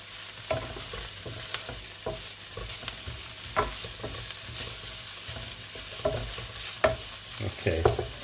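Ham and onions frying in sesame oil in a frying pan, a steady soft sizzle under repeated scraping clicks from a utensil stirring, close and fairly quiet, with no talking.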